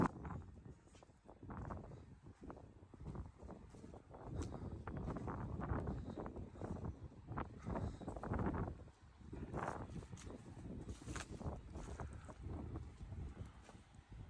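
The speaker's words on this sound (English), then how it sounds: "you should be able to hear the wind" Gusty wind buffets the microphone with a continuous low rumbling roar that swells and eases, close and fairly loud, with no voices.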